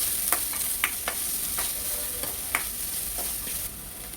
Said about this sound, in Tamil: கட் பண்ணி வச்சுருக்கிற வெங்காயம், பச்சை மிளகாய் இதை போட்டு 2 நிமிஷம் வதக்குங்க